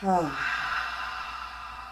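A single deep breath during a reclined yoga pose, a quick audible inhale followed by a long, soft, airy exhale.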